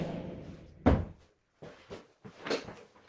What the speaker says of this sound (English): Let me just shut the door.